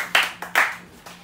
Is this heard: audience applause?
yes